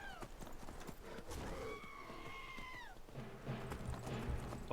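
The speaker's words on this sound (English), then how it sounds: "That was a goat. You never heard a goat scream before?" A goat's scream in the video game Skyrim, heard as a single drawn-out, high-pitched cry lasting a couple of seconds. It rises over a busy game background of clattering steps and ambient noise.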